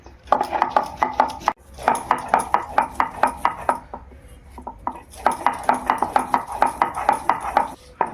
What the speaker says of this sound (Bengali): জিরেটা মিহি করে বেটে নিলাম।